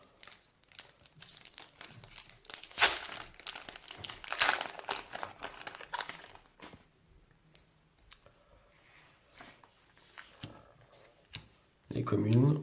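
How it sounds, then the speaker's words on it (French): Yu-Gi-Oh! booster pack wrappers from a Flames of Destruction display being torn open, with crinkly bursts of foil ripping and rustling that come loudest early on and again at the very end, under quiet talk. "C'est parti, on va ouvrir les premiers boosters."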